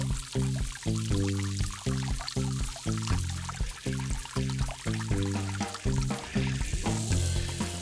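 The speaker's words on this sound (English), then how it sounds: "The water is bouncing off the ladle." Water pours and splashes in a kids' science play game, bouncing off a ladle and running through funnels, pipes and cups, a steady trickling stream mixed with bright, rhythmic background music.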